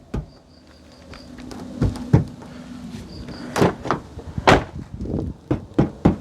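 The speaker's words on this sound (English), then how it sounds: "I'm also going to tap on the door." Hand taps on the door panel of a 2022 Maruti Suzuki Grand Vitara Strong Hybrid SUV: a series of sharp, close knocks in an irregular rhythm, growing more frequent toward the end, over a quiet background.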